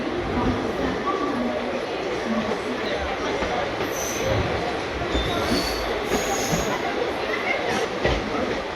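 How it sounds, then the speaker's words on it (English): The 11139 Hospet Superfast Express rolls into Dadar station in Mumbai with loud, steady rail rumble, squealing wheels and clacking over the track, heard from on board. "1139 Hospet Superfast Express arriving at Dadar."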